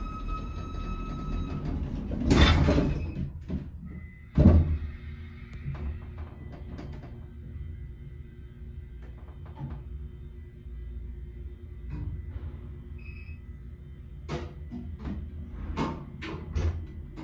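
A 1960s Reliance hydraulic elevator: a heavy door slides and thuds shut twice early on, then the car runs with a steady low mechanical hum and scattered faint clicks, close by and moderately loud.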